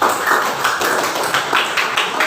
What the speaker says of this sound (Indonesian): beri tepuk tangan buat teman-teman ya